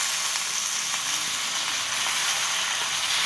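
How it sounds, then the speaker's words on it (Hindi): Moringa greens and potatoes fry together in a pan of hot oil, giving a steady, dense sizzle that stays close and loud from start to finish, with faint stirring and no talking. "इसको भी हम आलू के साथ में भून लेते हैं।"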